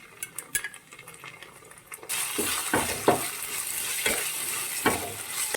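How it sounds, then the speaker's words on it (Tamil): Ginger garlic paste with dried chillies hits a hot pan and starts sizzling steadily, with a few close scraping stirs of a spoon against the metal after a brief quieter start. "ஸோ இஞ்சி பூண்டு பேஸ்ட் போட்டு நல்லா வணக்கணும்."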